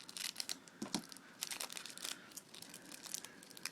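A Magic: The Gathering From the Vault: Legends trading card pack wrapper is opened up close, giving quick crinkly, crackling foil bursts in irregular clusters, with no talking.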